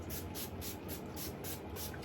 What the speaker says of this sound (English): Spray, this one is a Calm Blend.